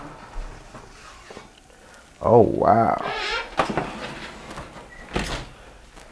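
A kitchen oven door is pulled down open, giving a single scraping, creaking clunk with a brief squeal, then faint clatter, while a person exclaims and talks nearby.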